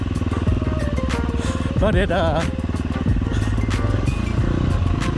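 Motorcycle engine fitted with a Tokyo Mods Vortex ECU, revving loudly and close with a rapid rise and fall in pitch mid-clip over a rumbling idle, while someone talks over it.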